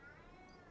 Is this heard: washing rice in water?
no